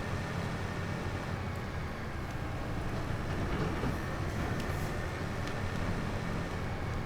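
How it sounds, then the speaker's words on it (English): A train in the video game Farming Simulator 25 crosses a viaduct, giving a steady, loud rumble with clickety-clack of the wheels that holds for several seconds. Nobody speaks. "Good timing with the train."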